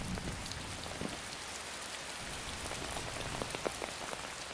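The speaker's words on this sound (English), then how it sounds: "a storm threatens to flood the site." Steady heavy rain pours down, a dense continuous hiss with scattered drops pattering close by on a hard surface.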